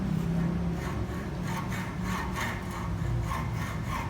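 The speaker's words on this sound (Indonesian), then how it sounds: "Kita pakai gergaji tangan." A hand saw cuts a marked workpiece in a manufacturing workshop lab, its rhythmic rasping push-and-pull strokes repeating steadily at close range over a low background hum.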